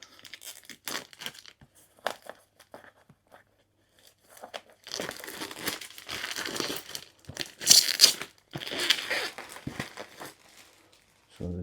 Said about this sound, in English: first thing I have to do is remove the cellophane